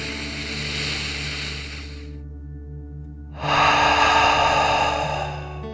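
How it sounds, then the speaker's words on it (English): Deep meditative breathing during a calming bedtime relaxation exercise: a long steady airy exhale, a brief quiet pause, then a louder, fuller inhale or exhale, heard alone over a faint low hum. "Let's take another deep dragon breath"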